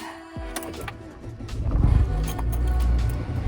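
A car engine idling in snow during a storm, a low steady rumble that rises a little partway through, with clicks and small mechanical sounds nearby.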